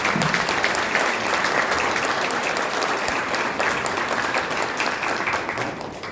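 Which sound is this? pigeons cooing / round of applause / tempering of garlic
round of applause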